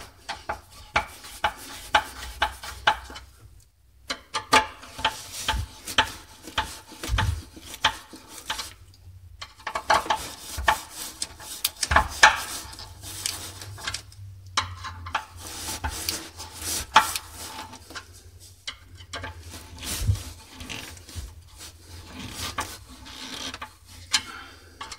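Ratcheting and metallic rubbing while a garbage disposal mounting bracket is tightened under a kitchen sink, coming in bursts of clicks broken by short pauses.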